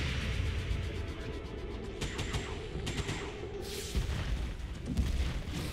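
Enemy gunfire in the strategy video game XCOM 2, a run of booming, overlapping shots and blasts set against a steady bed of game ambience, with no voices.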